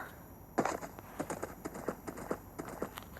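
Horse hooves in Minecraft clip-clop steadily as the rider travels: a quick, regular run of crisp, moderately loud steps with no talking.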